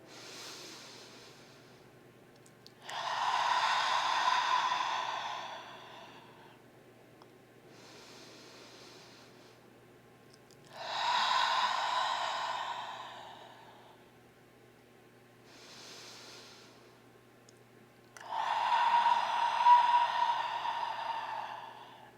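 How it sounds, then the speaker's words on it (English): Slow paced breathing in a power yoga flow: three long, audible exhales out through the mouth, each several seconds, with softer nasal inhales between them, close and unhurried with no talking. "Nice big releasing exhale out the mouth, just as we started."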